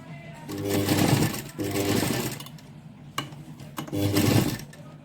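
A sewing machine stitches an invisible zip onto a lehenga, running in three whirring bursts with short pauses and clicks between them, close and clear.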